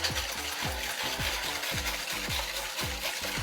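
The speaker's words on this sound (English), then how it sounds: "Turn your bowl while you're whisking to ensure that you catch all the corners" Whisking in a bowl while making a sorrel wine infused banana caramel: a steady run of quick, regular rhythmic strokes, each a clattering scrape of whisk against the bowl, close and fairly loud with no talking.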